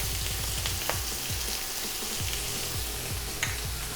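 Shrimp sizzle in hot oil in a pan, a steady, dense crackling hiss that holds close and even throughout with faint low rumbles beneath.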